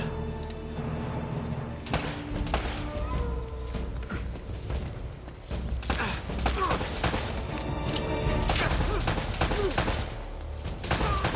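Gunfire in Uncharted: Drake's Fortune, repeated sharp shots and bursts coming in clusters across the span, loud and close, mixed with game sounds and occasional talk.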